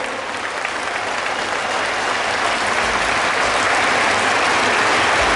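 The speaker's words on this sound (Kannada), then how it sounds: "ಈಗ ಇನ್ನ ಜೋರಾದ ಚಪ್ಪಾಳೆ ಬರಲಿ." Loud, sustained audience applause at a Hanuman Chalisa recitation gathering on the Maharaja College Grounds, a dense wall of clapping that holds steady from start to finish with no voices over it.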